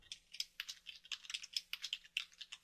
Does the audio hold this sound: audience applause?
no